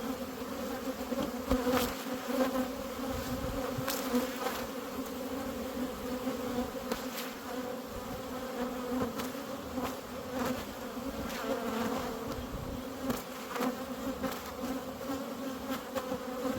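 Honeybees buzz steadily around a busy, thriving hive installed on a ranch, a dense continuous drone of many insects held close and fairly loud throughout, with no talking.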